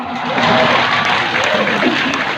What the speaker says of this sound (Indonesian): Tepuk tangan ah.